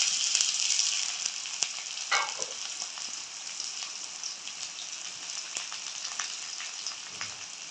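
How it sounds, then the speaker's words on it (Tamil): Onions and spices frying in oil for mutton curry, giving a steady close sizzle with occasional sharper pops and crackles and a soft scrape of stirring near the end. "தாளிக்கிறது."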